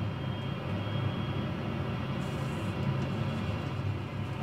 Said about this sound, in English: press the starter, and number one engine now firing up